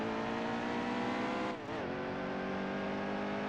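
A NASCAR race car engine at Atlanta in the NASCAR Heat 2 video game holds a loud, steady high-pitched roar for several seconds, dipping briefly midway as the revs shift before settling back into a sustained drone.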